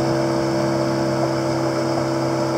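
The engine of a long, narrow boat heading into the Papuan jungle drones steadily throughout, loud and continuous at cruising speed, with no talking.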